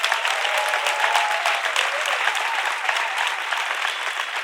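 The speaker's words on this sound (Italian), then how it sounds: "Applauso." A television studio audience breaks into steady, sustained applause, a dense wash of clapping hands that stays loud and even throughout, with no voices over it.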